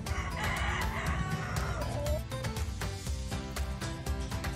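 A rooster crows loudly among chickens in a dirt-floored coop, the drawn-out calls standing out over clucking and scratchy background noise, with no talk.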